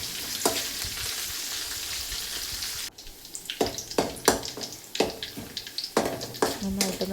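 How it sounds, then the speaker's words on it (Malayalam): Garlic cloves fry and get stirred in a hot pan, making a sizzle followed by a series of sharp scraping and clattering stirs, with dish-washing noise in the background. "ഇതൊന്ന് നന്നായിട്ട് ഇളക്കി കൊടുത്തൊരു ബ്രൗൺ ആവണ വരെ"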